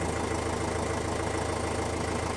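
A John Deere tractor engine idles steadily for a few seconds, a continuous close, even rumble with a low mechanical knock and no speech over it.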